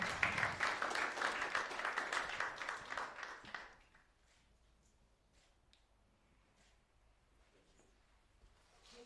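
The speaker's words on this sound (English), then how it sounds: "Guys, round of applause from Gatia." Applause from a seated audience at a panel event on African innovation, media and technology, fairly full for about four seconds, then dying away to near silence with a few scattered late claps.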